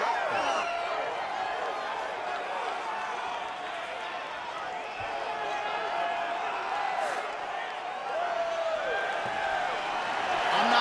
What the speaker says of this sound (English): I'm not sure I have ever heard a louder crowd in any arena in the world than this here Bell Center